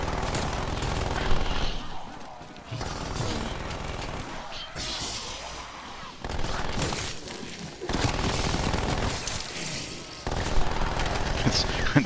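An automated turret firing in Call of Duty: Black Ops Cold War: dense, continuous rapid gunfire in repeated bursts, loud and close, with game explosions and combat noise layered throughout.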